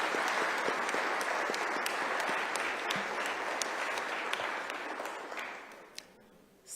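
An audience of students applauds former President Thabo Mbeki, a dense and sustained clapping that fades slightly toward the end.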